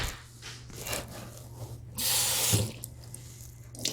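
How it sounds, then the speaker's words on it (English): A kitchen water tap runs briefly to wet a slice of bread for traditional Spanish gazpacho, a faint splashing rush in short bursts amid quiet handling noises. "take a nice slice of bread and put it in a little bit of water. So I'm going to wet this"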